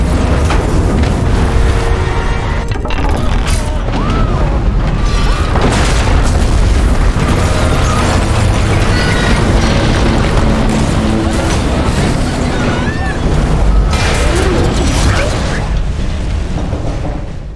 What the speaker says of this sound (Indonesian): untuk menghindari ledakan dahsyat yang meruntuhkan